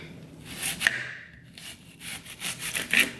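A knife cuts a purple onion into small slices for aguachile, giving a few soft scraping and crunching strokes close by with brief pauses between them. No one speaks.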